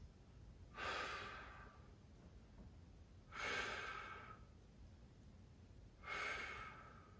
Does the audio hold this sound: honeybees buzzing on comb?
no